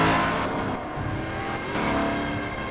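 Mafia Sentinel sports car from GTA III, its engine revving and droning at mid loudness with a slight dip and surge, alone without voices.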